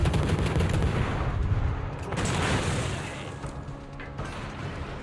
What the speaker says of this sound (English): People are blind firing and even scoring hits into my smoke.